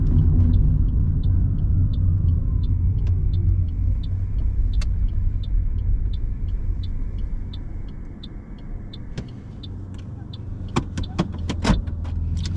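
Car slowing and pulling over to the roadside during a G2 driving test in Windsor, a steady low road rumble with a rhythmic turn-signal ticking throughout, ending in a few sharp clicks and clunks.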